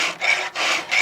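Hand file rasping across the cutters of a stopped chainsaw chain, three steady back-and-forth strokes close up with short gaps between them, no talking.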